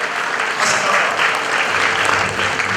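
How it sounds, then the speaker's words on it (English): Sustained applause from a crowd at a school graduation ceremony, steady, loud and dense for the whole stretch with no break. "Please, a round of applause for him."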